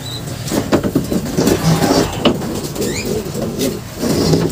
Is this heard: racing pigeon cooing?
yes